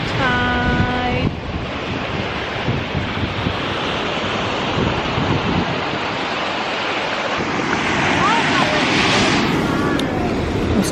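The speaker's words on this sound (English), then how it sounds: "Today is a little on a high tide." Ocean waves at a beach at high tide make a steady, loud surf roar with continuous wash and wind buffeting the microphone, swelling slightly near the end.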